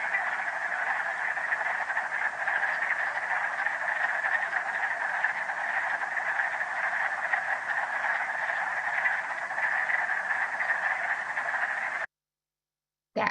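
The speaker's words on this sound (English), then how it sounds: "That was the wood frog." A dense, continuous chorus of wood frogs gives their duck-like quacking advertisement call, rapid overlapping croaks holding steady and fairly loud before cutting to silence near the end.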